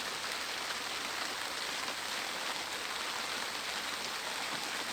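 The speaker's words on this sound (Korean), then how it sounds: "지금 밖에는 비가 오고 있어가지고" Rain falls outside, heard from inside a workshop on a plum farm as a steady, even, faint hiss that does not change for the whole stretch.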